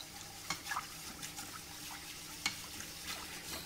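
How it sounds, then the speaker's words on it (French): Béchamel sauce seasoned with nutmeg, pepper and salt being stirred in a pan, a quiet continuous swishing with a few soft spoon knocks, faint and with no voices. "faut remuer tout le temps, hein, jusqu'à temps que la sauce est bien épaissie"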